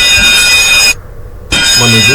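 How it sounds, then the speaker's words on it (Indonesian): A ship's general emergency alarm blares loudly and steadily, cutting out briefly mid-clip before sounding again, with someone speaking faintly beneath it. "ini untuk general alarm"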